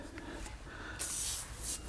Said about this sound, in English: I'm going to spray some anti-corrosion on it first